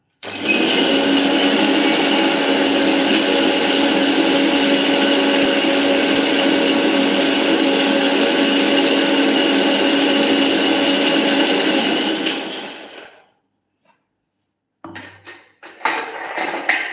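An electric grinder whirs loud and steady for about twelve seconds, grinding a Vidarbha-style masala of roasted onion, roasted coconut, garlic and cumin, then cuts off, followed by a few brief clatters.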